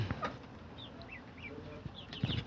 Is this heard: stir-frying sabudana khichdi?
no